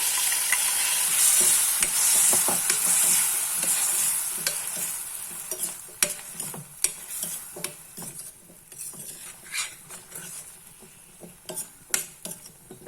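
Tomato, onion and ground paste fry for sambar, starting with a loud hiss as they hit the hot pan, then quieter sizzling with frequent clinks and scrapes of a spoon against the pan.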